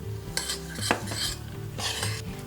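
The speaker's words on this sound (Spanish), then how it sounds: "simplemente incorporamos los frutos secos y removemos" Nuts being stirred into a thick, dense chocolate mixture in a pan, heard as a few close scraping and clinking spoon strokes with a soft sizzle beneath.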